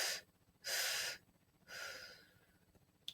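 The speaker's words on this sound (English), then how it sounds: "Exhale." Long breathy exhales during a guided breathing exercise, three distinct airy breaths in sequence, the first brief, the second strong and sustained, the third longer and fading, close and fairly quiet with no talk.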